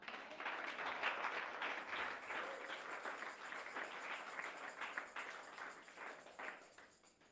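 A church congregation applauds Jesus during a Sunday service, sustained, dense clapping from many hands filling the room at a steady, fairly loud level for several seconds.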